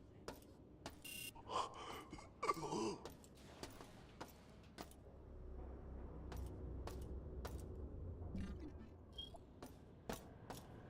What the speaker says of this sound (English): every time I leave the menu, it definitely chirps like a fire alarm